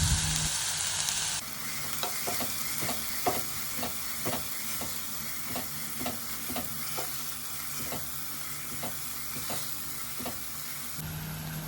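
Chopped ginger sautéing in hot oil, a close continuous sizzle with a regular series of stirring scrapes and taps roughly every half second through the middle, starting and ending with brief louder frying bursts.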